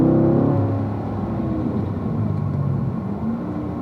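A 2018 C7 Stingray Corvette on the Spring Mountain race track, its engine note dropping and revving through a downshift into third for a corner, a loud, close roar that eases into a steady rumble.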